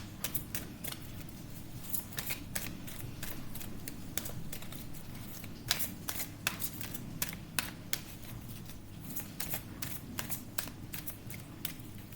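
Tarot cards are shuffled by hand in short, crisp riffling bursts and taps that repeat irregularly across the whole stretch, close and fairly quiet over a steady low background hum, with no voices.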